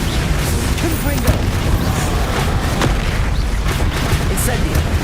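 Confringo blasting curse from a Harry Potter video game: a dense, continuous barrage of booming blasts and crackling impacts, loud and layered with game effects throughout, with a voice speaking over the din.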